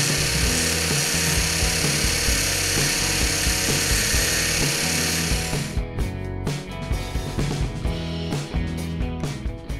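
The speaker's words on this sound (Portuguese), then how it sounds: "Vou passar esse cantinho aqui do lado direito no esmeril" A bench grinder sharpens a drill bit in a homemade bit-sharpening jig, giving a loud continuous whining grind that turns choppy and uneven partway through as the bit is worked against the wheel.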